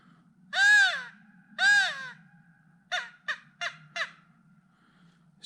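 Crows caw at a snowy lake campsite at Martin's Fork Lake: two long, drawn-out caws followed by four short, sharp ones, clear and fairly close over a quiet, low hum.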